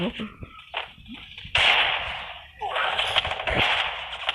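Bursts of gunfire from a shooting video game during headshot practice, loud rapid volleys separated by short pauses, with a voice talking over them.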